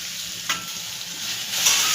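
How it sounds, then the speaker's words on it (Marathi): Masala spices frying in a pan at home, a steady close sizzle that grows louder and brighter toward the end, with a brief scrape near the start. "मसाला तळायला चालू आहे बघा"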